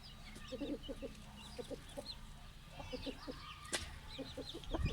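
Hens cluck in short repeated bursts, several birds close by, with soft chirps and a brief sharp rustle in the middle against a low outdoor hum.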